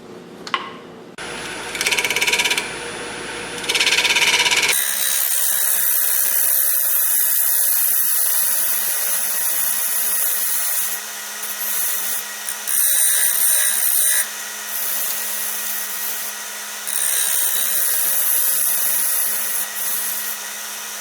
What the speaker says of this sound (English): I'll come in here and try to shear cut this just a little bit